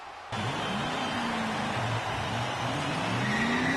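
Car engine in the DX entrance of WWE 2K14, starting abruptly and droning steadily, with the revving pitch rising and shifting as the car accelerates, loud and close throughout.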